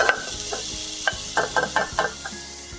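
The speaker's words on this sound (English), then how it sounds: "add in the fennel and the onion seeds and give them a stir" Fennel and onion seeds sizzle in a hot pan while a spoon stirs them, sounding as a close, bright crackle with quick, repeated scraping strokes and no voices.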